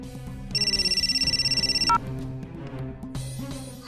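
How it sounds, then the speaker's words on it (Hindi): A telephone rings with a fast electronic trill for about a second and a half, loud and close, over a low background of music. "भाभी आप फोन उठाइए"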